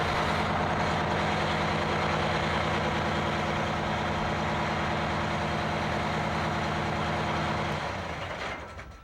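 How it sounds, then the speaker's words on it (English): An airport fire crash truck engine runs at a steady heavy idle with a constant low rumble, loud and close, before tapering off near the end; nobody speaks. "We have switches on the dash that allow me to start the truck."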